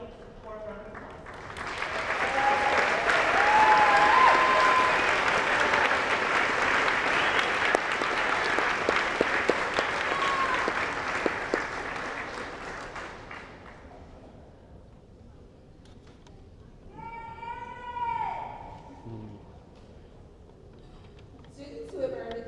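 An honors convocation crowd breaks into loud, sustained applause that swells, holds for about twelve seconds and fades, followed by a voice speaking and a brief cheer.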